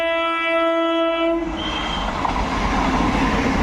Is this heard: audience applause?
no